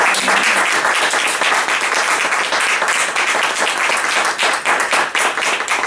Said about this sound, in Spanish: yo propongo un fuerte aplauso para Julián González.